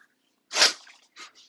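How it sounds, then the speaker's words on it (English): A single sharp, close sneeze followed by a couple of short breathy sounds, in otherwise quiet surroundings. "I had a sneeze right there."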